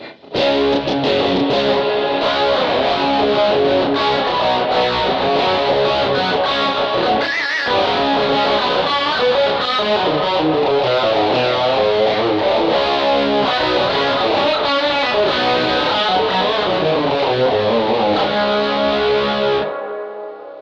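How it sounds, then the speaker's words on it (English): A heavily distorted electric guitar through AmpliTube 5 amp simulator plays a continuous, loud chugging riff with dense, saturated tone, briefly cutting out once midway before ringing on to the end. "It's also got a distortion sound as well"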